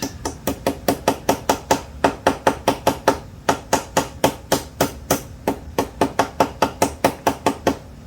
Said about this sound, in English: take my socket and my hammer